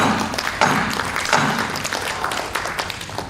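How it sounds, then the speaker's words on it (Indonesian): A crowd applauds at an organisation's general assembly (mubes) in Indonesia: a steady, dense wash of many hands clapping together, moderately loud, with a few sharper claps standing out throughout. "Tepuk tangan untuk itu."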